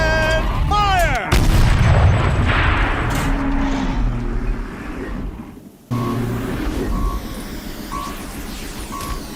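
A turret in the video game Horizon Zero Dawn fires heavy shots: a rising mechanical whine gives way to a loud booming blast, which rumbles away before a second sharp blast hits, followed by repeating electronic beeps.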